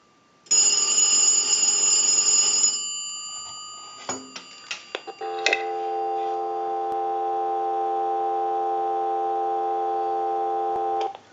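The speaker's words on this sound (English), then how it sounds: "we'll give you some dial tone" Single-slot payphone ends a ringing burst, then the handset is picked up with a few clicks and knocks, followed by a steady continuous dial tone that hums on alone until the end.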